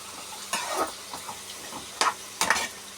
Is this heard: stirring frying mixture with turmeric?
yes